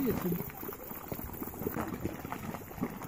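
Volcanic hot springs bubble and boil in New Zealand, a soft continuous gurgling of water with a faint steady hiss, heard at a moderate distance.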